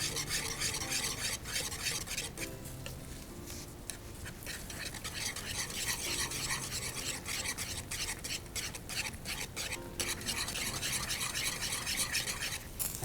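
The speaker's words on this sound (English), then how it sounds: "as I stir it, it's going to start to pull away from the sides" Steady scraping and rubbing of a spoon stirring thick Italian herb polenta in a pot, close and continuous, with a faint sizzle underneath and no talking.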